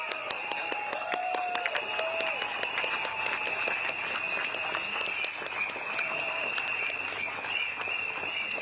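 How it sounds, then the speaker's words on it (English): An audience at a Singapore Progress Party election rally in Bukit Gombak claps for the speakers on stage, sustained, loud applause from a crowd with sharp individual claps and some cheering mixed in. "A big round of applause to all our speakers tonight on stage"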